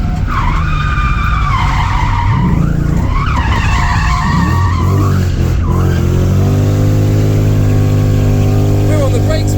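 A JDM car performs a burnout at a car show, tyres squealing and skidding in loud wavering screeches over a revving engine, then settling into a droning rev; people talk nearby.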